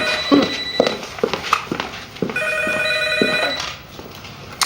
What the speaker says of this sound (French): j'imagine que tu te dérangeras pas pour aller répondre au téléphone